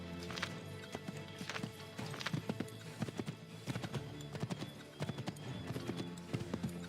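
Horse hooves clip-clop at a brisk, uneven gallop-like rhythm in Assassin's Creed III, close and continuous, with a faint neigh and no talk.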